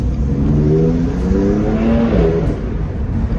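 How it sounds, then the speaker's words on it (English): A BMW F80 M3's modified 3-liter straight-six engine revs hard and loud in a tunnel, its growl echoing as the pitch climbs and holds steady. "You guys can hear that beautiful 3-liter straight 6."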